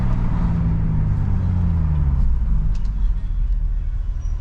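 A BMW M2 driving at night in New York City, its steady low engine and road rumble heard from inside the cabin, loud and continuous with a slight pitch sweep as it moves.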